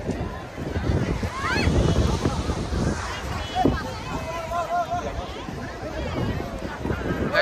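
Strong wind buffets the microphone while big sea waves wash and roar against the shore near Rameshwaram, a loud continuous rush with people talking over it.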